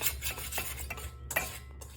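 A whisk stirs kosher salt into all-purpose flour in a bowl, making soft, rhythmic rubbing and scraping strokes close by.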